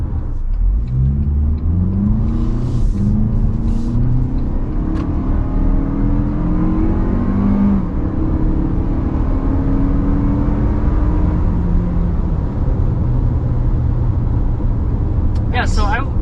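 A Hyundai Palisade V6 engine accelerates steadily under strong, constant road and cabin noise, its rising tones heard from inside the car while people talk over it.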